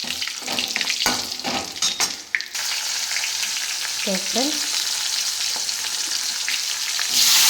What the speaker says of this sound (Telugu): ఇందులోని ఫస్ట్ అయితే మనం జీలకర్ర ఇలా వేగించుకోవాలి